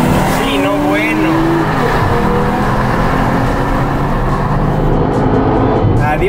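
A turbocharged all-wheel-drive BMW M440 and a Cupra launch side by side in a drag race, engines roaring loud and close with rising revs and some tire noise, while voices shout over the din.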